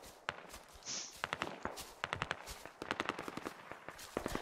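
Gunfire in the tactical shooter Squad, sharp single and short-burst shots popping at irregular intervals, moderately close against a quiet background.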